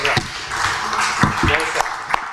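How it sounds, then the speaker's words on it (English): An audience gives a round of applause for a speaker at a startup event, with dense steady clapping and a few sharper individual claps standing out, close and fairly loud. "Can we have a round of applause for"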